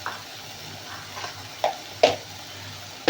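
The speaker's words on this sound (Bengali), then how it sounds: "এবার ভালো করে মশলাটাকে কষাতে হবে।" Spice paste with salt and turmeric fries for aloo dum with peas, a low sizzle under a few distinct spoon scrapes and taps against the pan, close and quiet, with no voices.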